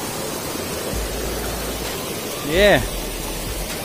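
Steady broadband rush of water falling into a pool below a cliff, a constant hiss with a brief voiced remark over it.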